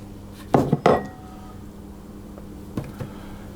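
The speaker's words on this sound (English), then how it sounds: "So the flour and the salt go into the food processor" Flour and salt going into a food processor bowl, heard as two close clattering knocks and rustles near the start, then a softer pair of clunks later over a quiet hum.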